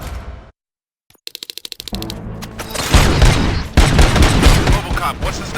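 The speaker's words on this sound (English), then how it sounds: "Gunshots? What's going on?" Gunfire bursts out in the Robocop Rogue City game: a quick run of sharp, rapid shots, then heavy, loud, sustained firing and explosions that fill the scene.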